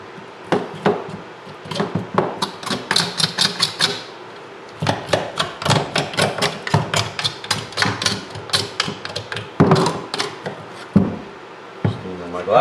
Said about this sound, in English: We're going to, at this point, scrape off what we can again.